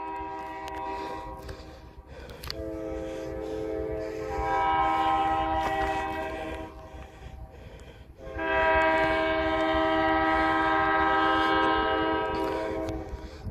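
Freight trains rumble past close by, with a locomotive's sustained multi-tone horn blaring twice over the rolling clatter, the second blast long and loud.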